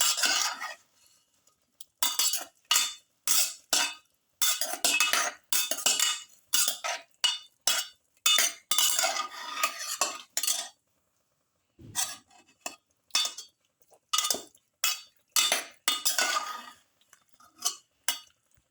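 Spoon clinks and scrapes against a bowl while garlic lamb mixture is thoroughly mixed, in quick uneven bursts of close, fairly quiet taps with short pauses between strokes.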